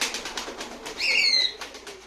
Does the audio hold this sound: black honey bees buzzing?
no